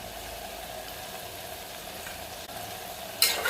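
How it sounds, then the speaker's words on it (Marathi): Sliced onion, browned until reddish, fries in a pan with finely chopped green chillies and salt, giving a steady, close sizzle throughout with no talking. "कांदा चांगला लालसर भाजून झालेला आहे."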